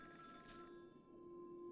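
Telephone ringing in the video game Honkai Star Rail, a faint sustained electronic ring with steady tonal harmonics, heard alone without talk.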